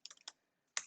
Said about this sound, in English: once I start typing that information in